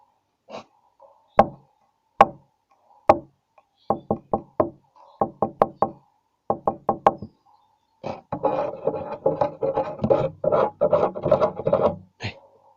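Knocking on a door at a school dormitory: several separate knocks, then groups of rapid sharp raps in threes and fours, followed by a stretch of dense rubbing or scraping on wood. Loud, close and clear, with no talk.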